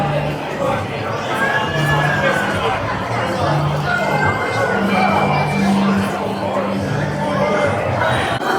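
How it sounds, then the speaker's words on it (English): Busy spring break crowds at Universal Orlando theme park, a dense hubbub of many voices with occasional shouts and children's calls, steady and surrounding, with no single speaker standing out. "if you guys are curious about the spring break crowds that we are witnessing right now"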